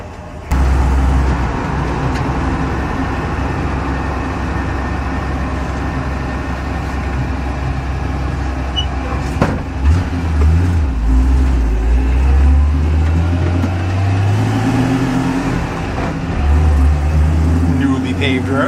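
A truck engine drones steadily while driving on a newly paved road, loud and close, with a rising rev and gear change partway through and someone talking over it.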